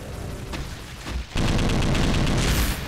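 In the first-person shooter Brutal Heretic, gunfire rattles close by before a grenade detonates in a loud, sustained blast that fills the rest of the moment.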